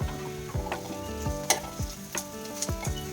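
Hot tempering sizzles as it is poured into a pot of drumstick leaf sambar, giving a loud, continuous crackling hiss with repeated scrapes and clinks from a spoon, and no speech.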